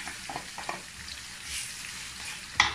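Pounded garlic and onion fry in hot oil for prawn sambal, giving a soft continuous hiss with scattered crackles. A sharper pop and spatter near the end stands alone with no voices.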